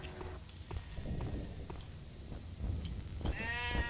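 A goat bleats in the Dino D-Day video game, a short harmonic cry rising near the end after rumbling game noise and scattered thuds.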